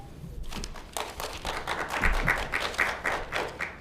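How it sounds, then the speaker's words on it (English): Audience applause and cheering erupt in a Raleigh city council chamber during an evening session, a dense, steady patter of many hands clapping that swells midway and carries on without a break. "one of the rules of decorum, no cheering from the audience, so please hold your applause"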